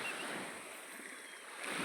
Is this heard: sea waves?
yes